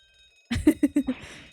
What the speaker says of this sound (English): This would appear to be an alarm bell.